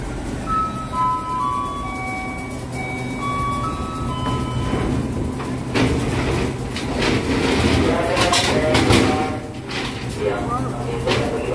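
A commuter train pulls in and comes to a halt at Indro station, a continuous rumble and hiss with squealing tones early on and a louder burst of door and brake noise near the end.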